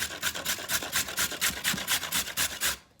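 Carrots being grated by hand for coleslaw, a close rhythmic rasping of about a dozen quick even strokes, each a short scratchy burst, fading out at the end.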